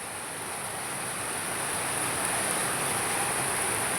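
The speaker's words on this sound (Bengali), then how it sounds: "প্রচন্ড বৃষ্টি হচ্ছে আমাদের এখানটায়।" Heavy rain pours down steadily and loudly, a dense continuous hiss of falling water that builds slightly and holds without a break, with no voices over it.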